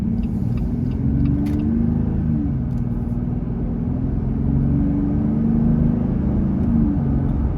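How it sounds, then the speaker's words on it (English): Jeep Gladiator fitted with a cold air intake accelerating on the road, a steady deep engine rumble heard from inside the cab that rises gently in pitch and holds loud throughout. "That's just normal acceleration."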